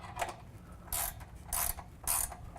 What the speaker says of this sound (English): And then we go ahead and tighten down the bolt up at the rocker panel,